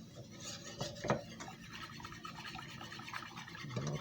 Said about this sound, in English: Okay, whisk that up.